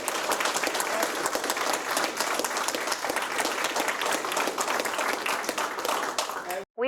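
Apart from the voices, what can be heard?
applause for the veterans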